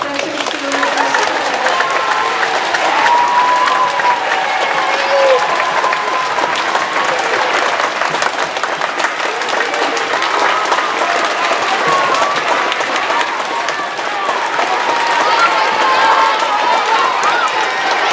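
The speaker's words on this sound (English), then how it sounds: "let's give one more round of applause for the veterans who are with us" Students at a middle school Veterans Day program give a sustained round of applause for veterans, a dense, steady wash of clapping from a large crowd filling the room throughout.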